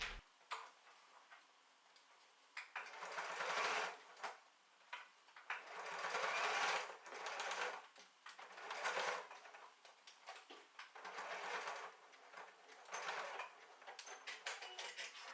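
A sewing machine runs in short, repeated bursts while stitching a Christmas stocking seam, each loud rapid whirr separated by quiet pauses, heard up close with no talking.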